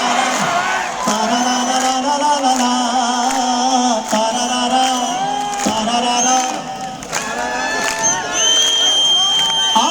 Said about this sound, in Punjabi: ਜ਼ਰਾ ਤਾੜੀ ਮਾਰੋ